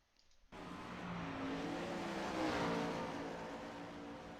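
Dirt race cars at Eldora rolling onto the front stretch, a steady engine drone that swells and eases slightly, heard at a moderate distance after a brief quiet start.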